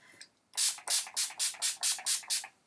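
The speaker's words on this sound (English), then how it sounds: "I'm just going to finish it off with the Urban Decay Chill Makeup Setting Spray" Urban Decay Chill makeup setting spray fires a quick burst of about eight sharp, hissing pumps in an even rhythm, close and fairly loud, with no talk.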